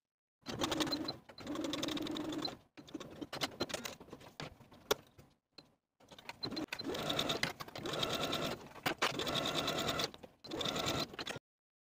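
A sewing machine runs a 5/8 inch seam down a dress in several steady bursts with short pauses between them, its motor whirring close and clear.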